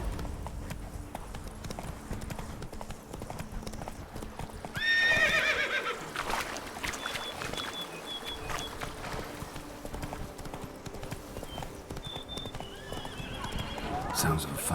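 A horse in The Witcher 3: Blood and Wine, with rhythmic hoofbeats carrying on throughout, a loud whinny near the start of the gallop, and a voice speaking over the game sound.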